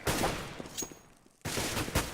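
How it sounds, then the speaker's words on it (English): Counter-Strike gunfire on the de_nuke map at a Copenhagen Games esports match: a rapid burst of shots, a brief lull, then another sustained volley, close and loud with no talking. "he just barely got around the corner to dodge those bullets"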